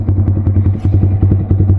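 A Yamaha R15 motorcycle idles loudly close by as it is parked, with a steady low engine thrum and a regular pulsing beat and no talking.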